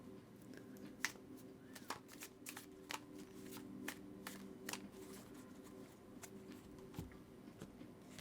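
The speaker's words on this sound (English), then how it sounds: "I'm going to go ahead and give her a good shuffle for you" Quiet riffle and flutter of tarot cards being shuffled close by, a string of crisp slaps and snaps repeating irregularly, no voices.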